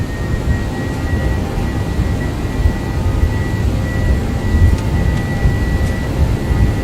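Roar of Airbus A321 jet engines at takeoff power in the X-Plane 11 flight simulator, a steady, loud broadband rumble with a faint high whine running throughout, no voices.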